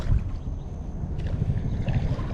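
Paddling a Wilderness Systems Recon 120 fishing kayak on open water, with soft, steady water swish and low rumbling wind noise throughout.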